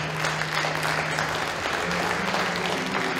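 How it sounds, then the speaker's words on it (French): Audience applause at a New Year hypnosis show, a steady wash of clapping filling the room, with a few indistinct voices murmuring underneath. "Vous pouvez les applaudir bien fort"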